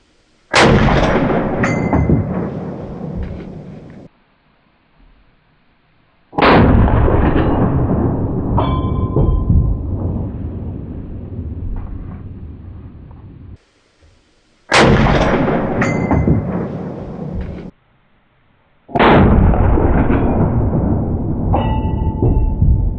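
Four loud revolver shots during an outdoor deer hunt, fired from a .45 Long Colt or .44 Magnum, each a sharp blast followed by several seconds of rolling echo, spaced irregularly with silence between.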